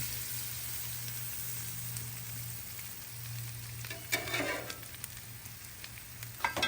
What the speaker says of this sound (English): bit of butter to the griddle here